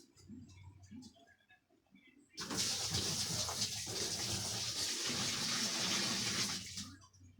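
Water runs loudly and steadily into a washing machine being tested for leaks after a gearbox, belt and drain rubber replacement, a close continuous rush of about five seconds that follows quieter handling noises.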